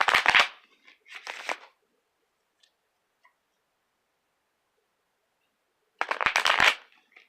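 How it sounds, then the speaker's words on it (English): Tarot cards shuffled in a few quick riffling bursts, two close together at the start and another after a long near-silent pause, crisp and close with no talking. "Let's do a couple more shuffles."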